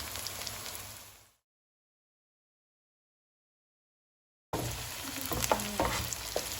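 Tomato softening in a pan for mutton masala with lemongrass, curry leaves and bay leaf, giving a steady close sizzle with stirring that cuts out completely for about three seconds before returning with a few scrapes and clinks.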